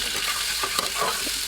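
Meat sautéing with turmeric, chili powder and salt gives off a steady, close sizzle, with a few soft stirring scrapes coming through the hiss.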